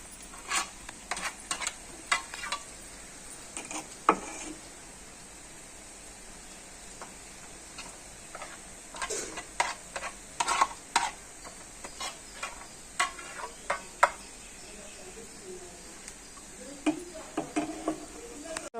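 Boondi batter rubbed through a ladle drops into hot oil for laddu, making a steady sizzle broken by many small ticks and clicks of scraping and dripping, close and moderately quiet throughout.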